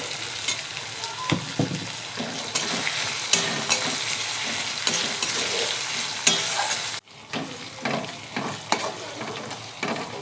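Ginger paste and garlic sizzle steadily in a hot pan while being stirred, a continuous bright frying hiss with occasional scrapes and stirring knocks, briefly dropping out partway before resuming.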